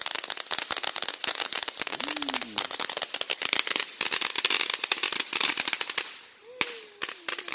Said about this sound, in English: That one was like actual fireworks at the end.